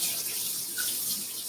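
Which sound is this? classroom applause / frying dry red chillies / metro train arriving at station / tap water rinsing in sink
tap water rinsing in sink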